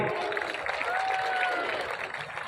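A crowd at a traditional kusti wrestling match applauds in a steady wash of clapping that fades slightly, with an announcer's amplified voice talking over it.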